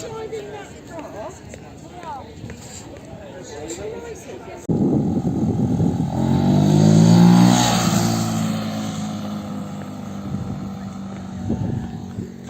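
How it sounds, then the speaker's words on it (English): A car driving past in a quiet outdoor setting, its engine swelling from nothing to a peak and fading away over several seconds, with people chatting before and around it. "Who's driving that car?"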